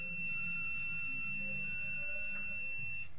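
Steady electronic buzzer tone from a newly replaced heater thermostat being tested during a repair, holding continuously at low level over faint background hum with no talk.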